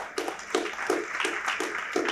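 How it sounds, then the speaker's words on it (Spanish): A church congregation claps in a regular rhythmic beat, roughly three claps per second, close and moderately loud with no talking over it. "¿Cuánto le damos un fuerte aplauso al Señor?"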